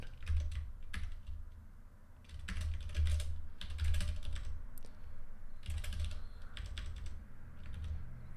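Steady clicking of computer keyboard keys as code is typed, in quick irregular bursts with short pauses, close and moderately loud, no voices.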